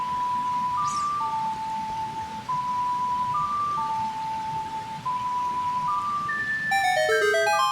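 An ocarina melody from the video game Legend of Zelda: Ocarina of Time, clear pure flute-like notes playing alone over soft background hiss, ending in a quick bright chime-like flourish.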